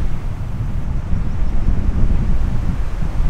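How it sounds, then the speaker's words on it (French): Strong wind blows through a forest at a windy bivouac, a loud, steady roar with gusty surges that buffet close to the microphone throughout. "Au petit matin, le vent n'a pas faibli."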